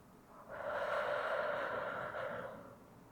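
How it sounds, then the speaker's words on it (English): A single slow, deep breath drawn into the belly during a calming exercise, an airy inhale rising and fading over a couple of seconds, close and quiet. "Breathe into your tummy."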